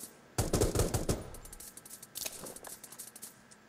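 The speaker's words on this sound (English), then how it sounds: "Where is that guy shooting from?" Another player's distant gunfire in Rules of Survival: a fairly quiet, rapid string of shots, followed by a second short burst and a few scattered pops.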